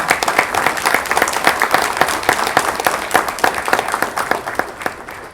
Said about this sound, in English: giving a round of applause to our first responders